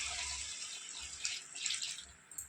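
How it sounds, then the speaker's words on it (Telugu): Hot water poured into a pot of mutton masala for dum biryani, a steady close splashing stream lasting the whole moment with slight surges in flow. "నేను 1 లీటర్ వరకు పోస్తున్నాను నీళ్ళు"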